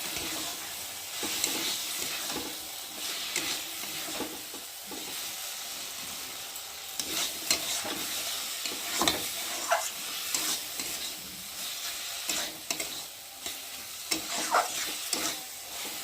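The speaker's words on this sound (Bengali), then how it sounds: "সর্ষেটা দিয়েছি তো বেশি ভাজবো না, নেড়ে চেড়ে নেবো" Mustard paste being stirred and fried in a pan for a pabda fish dish: a steady, close sizzle runs throughout, broken by soft scraping strokes of the spatula at irregular intervals.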